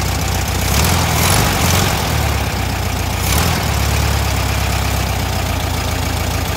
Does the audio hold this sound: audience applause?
no